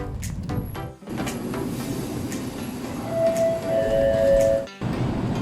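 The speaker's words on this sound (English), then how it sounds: "Oh, the train is already here." A train pulls into an outdoor station under a dark sky, a steady rumble of cars and wheels with brief squealing tones near the end and a short gap midway.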